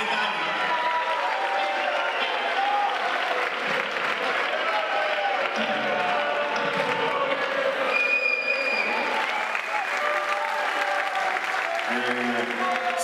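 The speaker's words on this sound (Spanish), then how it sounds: "El aplauso grande para los 67" Audience applause at a rock concert in the Teatro Cariola theatre in Chile: a dense, loud, continuous wall of clapping from a large crowd, with cheers and shouts rising through it.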